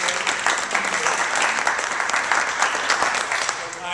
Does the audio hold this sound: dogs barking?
no